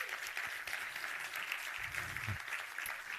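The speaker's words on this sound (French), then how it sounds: "J'aimerais qu'on applaudisse Antoine dans la salle." Audience applause fills a conference hall at an innovation event, a soft, distant, steady patter of many hands clapping together for a few seconds with no clear pauses.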